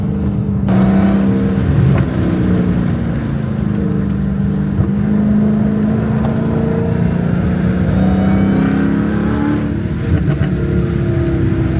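A 717 hp Dodge SRT Hellcat with a 6.2-litre V8 Hemi lapping the Nürburgring Nordschleife, its loud engine roaring steadily with a rising and falling pitch through gear changes and turns, no voices over it.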